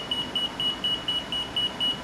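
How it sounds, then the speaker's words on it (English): Repeated short, high electronic beeps from a residential forced-air HVAC filter monitor sounding its airflow-restriction alarm, evenly spaced at a steady rhythm over a low background hum, close and fairly quiet. "an alarm as indicated also by the magnehelic"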